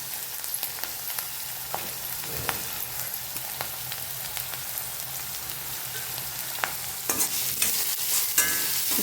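Food frying in a new pan, a steady crackling sizzle with occasional sharper pops and stirring scrapes, close and fairly quiet, with no talking.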